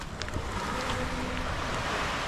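Steady wash of surf rolling in at Cabongaoan Beach in Burgos, Pangasinan, broad and continuous, with wind noise buffeting the microphone.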